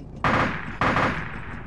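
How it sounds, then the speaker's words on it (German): A tank's mounted machine gun in a video game fires two loud, close bursts about half a second apart, each a sharp crack trailing into a decaying rattle. "Nicht die Kanone, sondern das MG nehmen."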